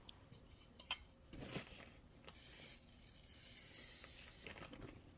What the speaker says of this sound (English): I'm going to spray this in my spray tent